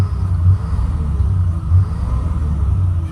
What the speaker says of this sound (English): Let me rev it up for you.